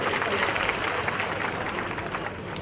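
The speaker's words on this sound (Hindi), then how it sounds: "जोरदार तालियों के साथ में।" Crowd applause at a BJP political rally in Churu, a continuous wash of many hands clapping at moderate distance, heard beneath an amplified voice talking over it for nearly three seconds.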